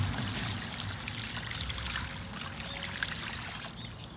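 Water is poured onto a green filter of ground and plants so it soaks into the groundwater, a steady close splashing and trickling wash that runs unbroken with no one talking.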